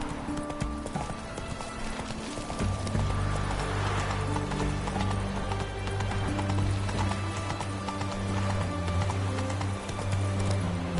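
Roach the horse gallops in The Witcher 3 video game. Steady, rapid hoofbeats clip-clop on without a break, close and clear, with no talk.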